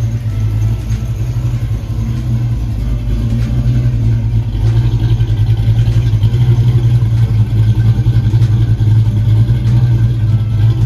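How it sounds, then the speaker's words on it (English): A Pontiac Trans Am with an exhaust manifold leak idles close by, a loud and steady low rumble with a faint ticking texture that holds even throughout, with no voices. "Little manifold leak, can't keep that one fixed at all."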